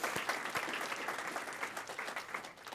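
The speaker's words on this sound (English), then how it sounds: "let's give a round of applause to AFT" An audience at an event applauds, giving a round of applause with steady, dense clapping over almost three seconds.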